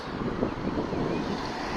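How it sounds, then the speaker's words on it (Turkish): Wind buffets the microphone in a steady, rumbling roar, broad and noisy with no voices. "Yine rüzgar var."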